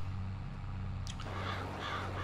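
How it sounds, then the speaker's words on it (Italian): Crows caw in Farming Simulator 2022, a few harsh calls starting partway through and repeating over a steady low farm-machinery hum, fairly faint and distant. "Corvi se ne vanno"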